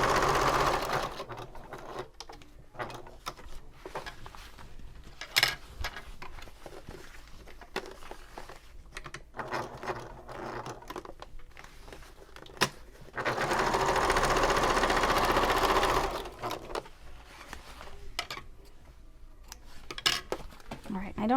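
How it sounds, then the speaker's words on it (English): A sewing machine top stitches a flat fabric seam on a convertible bag, its motor running in repeated bursts of rapid stitching with brief stops between, close and fairly loud throughout. "and so I'm going to top stitch"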